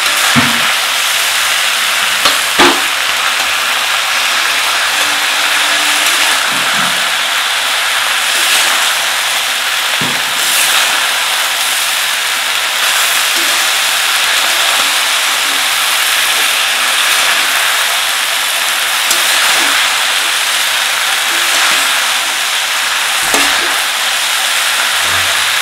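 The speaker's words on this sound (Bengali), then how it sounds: "আমাদের সিম আর ফুলকপি পেঁয়াজ দিয়ে ভাজবো" Broad beans and cauliflower fry with onion in a home kitchen, giving a continuous loud hissing sizzle with occasional clatter of a spatula against the pan, steady throughout and without talk.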